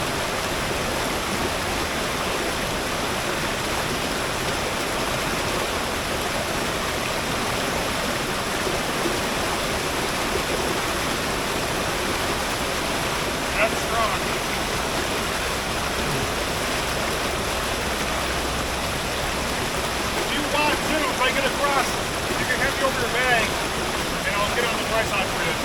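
A strong river current rushes over rocks in Scranton, producing a loud, continuous, close-up roar of turbulent water that holds steady throughout.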